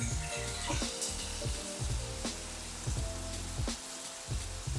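Axis deer meat sizzles and crackles steadily in a hot pan over high heat, with a few louder bursts and scrapes as the pieces are flipped and stirred, close and continuous with no talking.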